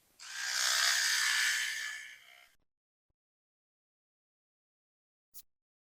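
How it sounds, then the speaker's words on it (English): An old electric toothbrush scrubbing a corroded die-cast toy Land Rover wheel, a close, loud buzzing whir lasting about two seconds before cutting off, then silence and one short click. "Got an old electric toothbrush here, ready to have a go."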